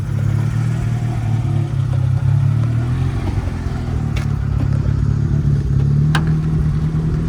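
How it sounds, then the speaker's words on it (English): A turbocharged Honda Del Sol drives along with a steady, loud mid-pitched engine drone and some light cabin clatter, holding fairly constant revs with no one speaking. "we're going to take you guys for a little ride in Jordan's little Del Sol here. It's turbocharged"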